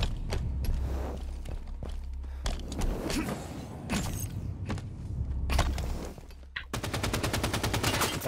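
Gunfire in a Halo 5: Guardians multiplayer beta Breakout match: scattered single shots and short bursts crack over a low rumble, then a sustained burst of rapid automatic fire closes the stretch.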